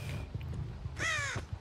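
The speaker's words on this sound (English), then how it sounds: "the crow must scare me now" A crow in the Dead by Daylight video game gives a single harsh, raspy caw near the end, loud and close over a low rumbling game ambience.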